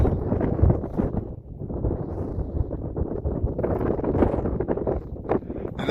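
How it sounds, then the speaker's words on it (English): Strong wind buffets the microphone high on an exposed mountain approach ridge in Lovell Canyon, Nevada, a continuous loud roar and rumble with gusting swells throughout and no voices. "You probably hear a whole lot of wind."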